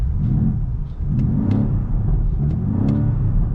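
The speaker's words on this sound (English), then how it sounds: "I'm going to do a little rev with the windows up first." A 2023 BMW XM's engine revs up and down in repeated rising and falling swells, heard inside with the windows up, a deep rumbling drone heard close, with a few faint pops and burbles.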